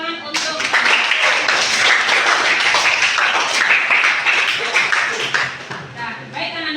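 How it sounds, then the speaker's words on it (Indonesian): A classroom full of students claps together in a dense, steady round of applause lasting several seconds, loud and close, with voices mixed in throughout. "Oke, tepuk tangan untuk"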